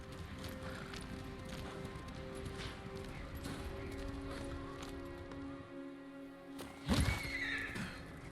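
A horse in the game Ghost of Tsushima gives a sharp neigh near the end, after soft hoofbeats and a steady hum of background ambience.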